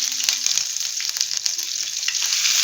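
Coarsely pounded fresh ginger-garlic paste frying in a pan, a bright, close, continuous sizzle with a few stirring knocks, no voices.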